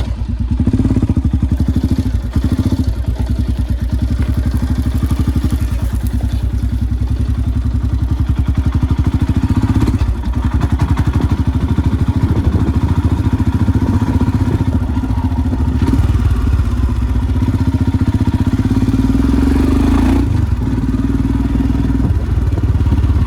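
A modified stage 2 tuned Royal Enfield Himalayan 411 motorcycle idles and revs with a loud, close, thumping exhaust, a steady rough single-cylinder beat with brief surges in revs throughout.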